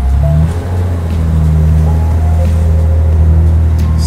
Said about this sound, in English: Straight pipe C63, let's roll. So loud.